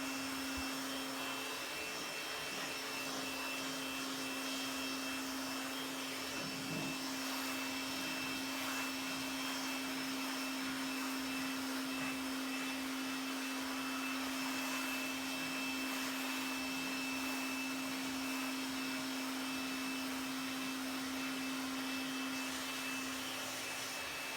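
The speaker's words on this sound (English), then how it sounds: "I will speed up the drying process again with the PT blower" A PT blower dries a freshly washed car, its motor holding one loud, unbroken, steady whine with a strong hum throughout.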